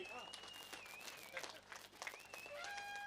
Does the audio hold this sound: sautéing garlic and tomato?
no